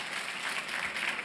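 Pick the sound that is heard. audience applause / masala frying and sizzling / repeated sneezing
audience applause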